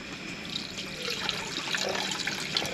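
Half a litre of water is poured into the measurer of a hot tent stove in a lavvo tent, a soft steady trickle and splash, close and fairly quiet.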